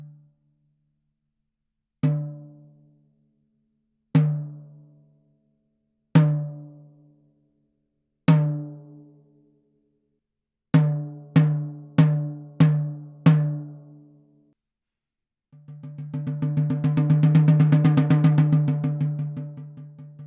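A tom drum, tuned with the batter head higher than the resonant head, is struck alone: four spaced single hits with short decays, then five quick strokes, and finally a sustained rolling swell that rises and fades.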